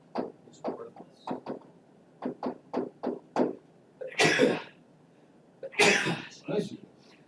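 A sharp sneeze bursts out in a lecture room, followed a moment later by a second sneeze, set between short bursts of a lecturer's speech.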